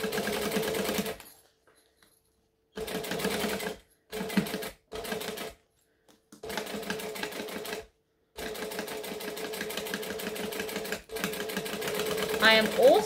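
A sewing machine top-stitches a laptop bag in several runs of rapid, even mechanical chatter, each lasting one to three seconds with gaps between, close by and steady.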